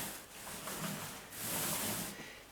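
A paint roller rolls back and forth over a wall during a second coat, giving a soft, continuous sticky rubbing and hissing that swells and fades with each stroke, close and moderately quiet.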